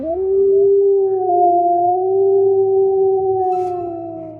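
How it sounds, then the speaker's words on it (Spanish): A werewolf gives one long, loud, sustained howl, close and steady with a slight rise near the end, alone without any talk. "Aulló con todas sus fuerzas."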